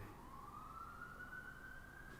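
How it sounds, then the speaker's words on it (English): A distant emergency vehicle siren wails faintly at night, one long rising tone drifting over a steady low background hum. "I'm just saying it's a bedtime siren"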